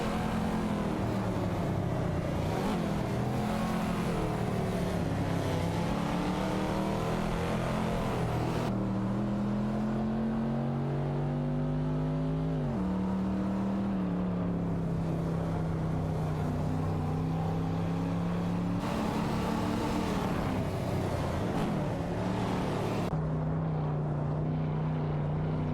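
Race cars in an AI racing video game drone continuously, their engine pitch rising and falling as they shift gears, loud and steady throughout with no talk.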